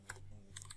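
A computer keyboard gives a few quick, soft key clicks, including a single keypress, faint and close, with no one talking.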